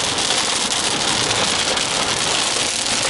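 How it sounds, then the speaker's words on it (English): Heavy rain pours down continuously, a dense, loud steady hiss of drops hitting surfaces with no pauses, heard alone. "But it started raining."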